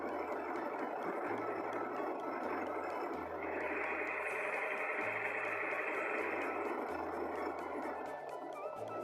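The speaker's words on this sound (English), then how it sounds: "I'm using my overlocker" An overlocker serging a fabric edge to stop it fraying: a steady, dense mechanical whir with a rapid stitching chatter, continuous and close, its pitch shifting slightly partway through, with no talking.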